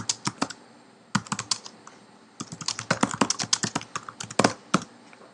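Rapid clicking on a computer keyboard as a summary is typed, irregular bursts of close keystrokes with a short pause near the start, no speech.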